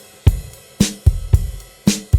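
Overhead microphones on a drum kit: sharp, roomy drum hits, a kick or snare thud about every half second and two brighter cymbal-splashed strikes, played in a loose repeating pattern with nothing else.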